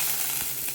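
Curry leaves hit hot oil in a pan with mustard seeds, giving a short, soft hiss of sizzling with a couple of faint pops.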